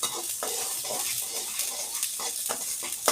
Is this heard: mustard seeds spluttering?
yes